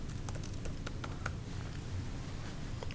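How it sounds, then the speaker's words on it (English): Fingers tapping out an email on a computer keyboard, a quick, irregular run of close, soft key clicks over a low background hum. "So we can type in our email"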